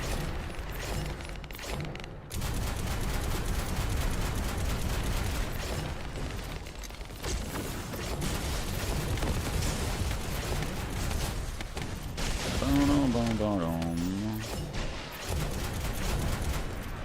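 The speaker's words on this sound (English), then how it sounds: "You can turn off other people's explosions." Explosions and mechanical combat noise from the mecha video game Mecha Break form a dense continuous rumble with booming bursts, a brief pause partway through, and a warbling electronic effect near the end.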